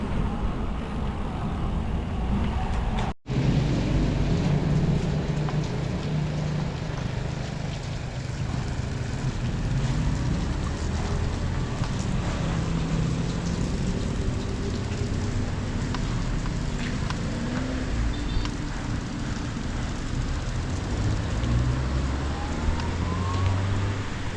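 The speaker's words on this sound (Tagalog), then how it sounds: "Guys, lakas na ng ulan." Steady, dense southwest monsoon rain pours down continuously, a loud broadband roar with faint traffic rumble underneath.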